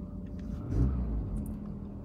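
A Maruti Ignis 1200cc four-cylinder petrol engine idles quietly, giving a soft, low, even hum with a brief gentle swell partway through and otherwise steady, faint running.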